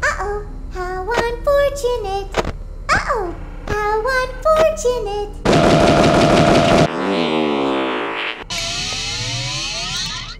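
Rapid video game gunfire bursts in Ultimate Custom Night (FNAF), loud and dense, following a stretch of synthetic voice speech and mixed with electronic game effects.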